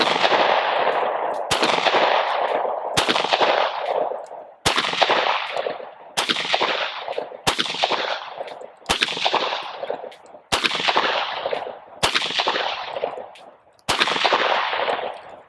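A Glock 43x pistol fires about ten single shots at a steady pace during a rapid high-round-count test, each one a loud, sharp crack with a ringing decay.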